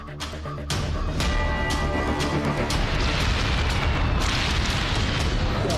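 A missile explosion on an oil tanker in the Strait of Hormuz: a sharp blast leads into a sustained, dense roar of fire and rumbling that stays loud throughout, with faint voices underneath.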